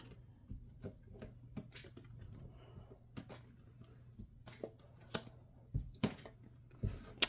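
Seven cards drawn one by one from a deck during a solo tabletop card game, giving soft, papery flicks and slides in an uneven rhythm. They sound close and quiet, with no talking.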